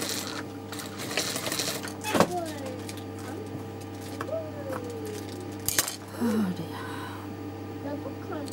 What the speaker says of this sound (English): what we're going to do is take it to the overlocker and just overlock.